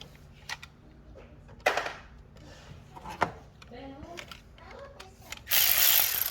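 Ratchet wrench tightening a spark plug on a 2012 Ford F-150 with a 3.7 V6, heard as scattered clicks and short mechanical bursts, moderately close, ending in a louder rasping run of ratchet clicks.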